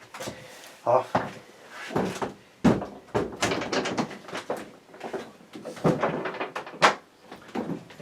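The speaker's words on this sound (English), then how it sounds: "Excuse the noise, I was opening the door." Indoors, a door is opened with a series of knocks, thumps and creaking handling sounds, close by and spread irregularly through the stretch, with someone talking intermittently.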